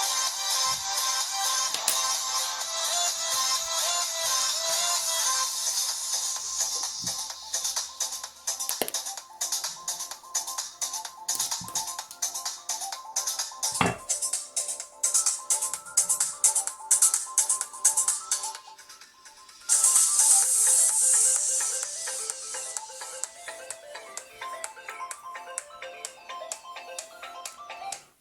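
Copyright-free music plays through the small speaker of a Cagabi One phone, a bright, continuous tune with a rhythmic beat, briefly dropping out before resuming, heard alone without talk.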